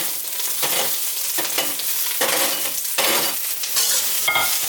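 Fried tofu and green onion being stirred in a hot oiled pan, with repeated scraping strokes in an uneven rhythm over a steady sizzle, close and fairly loud.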